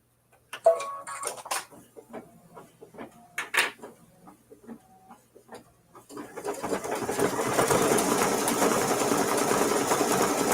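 An embroidery sewing machine stitching a strawberries quilt block: a few scattered clicks and taps at first, then from about six seconds a steady, fast rhythmic stitching hum builds and continues close and loud.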